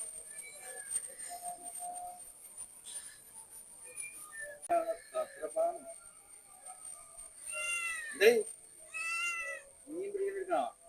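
A cat meows several times, drawn-out and fairly close, while a person talks intermittently nearby.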